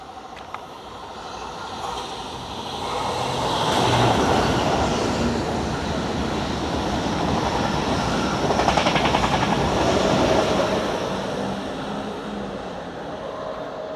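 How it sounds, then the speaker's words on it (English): A train passes nearby, rumble swelling to a long steady roar with rattling wheels and a faint horn tone, then easing off. "Let me show you the train."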